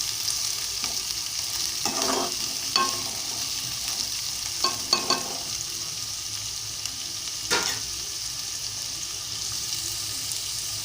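Onions fry lightly in a pan for thotakura curry, a steady nearby sizzle broken by a few scraping stirs and clinks, with no speech.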